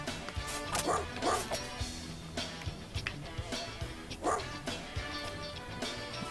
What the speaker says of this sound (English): I can't stop these dogs.